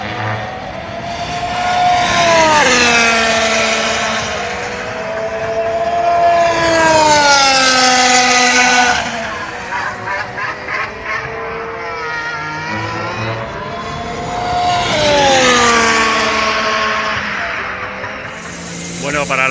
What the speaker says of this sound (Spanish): cómo rugen estos motores